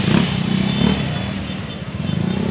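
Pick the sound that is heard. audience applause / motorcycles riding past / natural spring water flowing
motorcycles riding past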